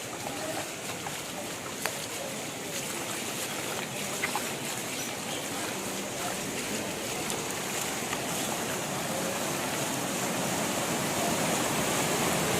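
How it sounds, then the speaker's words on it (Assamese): Floodwater from a breached embankment surges through a flooded town, a steady, loud, broad rushing roar that continues without a break. "চাওক না পানী পানী কি ৰূপ লৈছে, পুৰা বানপানী"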